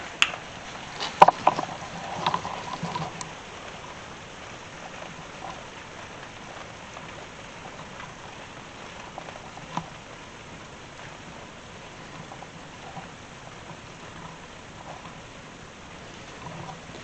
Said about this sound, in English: It's raining right now. You probably could hear it on the microphone.